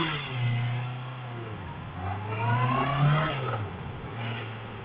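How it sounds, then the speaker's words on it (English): A 2019 Honda CB650R motorcycle engine revs up and down in smooth swells, its throaty tone rising and falling, close and fairly loud with no talking. "of course the engine sound is really nice on this one"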